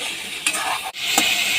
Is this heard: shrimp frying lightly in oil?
yes